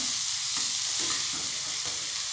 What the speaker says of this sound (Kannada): ಚೆನ್ನಾಗಿ ಫ್ರೈ ಆಗಬೇಕು, ಈರುಳ್ಳಿಗಳೆಲ್ಲ ಚೆನ್ನಾಗಿ ಕೆಂಪಾಗಬೇಕು